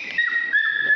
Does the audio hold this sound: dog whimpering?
yes